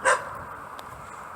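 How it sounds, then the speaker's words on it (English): A single short, sharp dog bark nearby, then a steady background hum. "Don't bark at me, I said."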